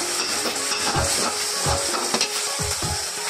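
Canned sardines with pepper fry in a pan with a steady sizzle while a utensil scrapes and stirs them in repeated strokes. The sound is close and continuous, with no talking.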